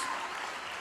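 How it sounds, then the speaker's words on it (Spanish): Applause from a church congregation at a youth congress, a short steady burst of clapping with no break. "Déselo con fuerza porque es para Jesús ese aplauso"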